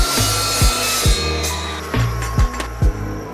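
A metal slingshot brace being cut to length in a workshop, a steady abrasive saw-like grinding with several sharp, evenly spaced low knocks, close and loud with no talk.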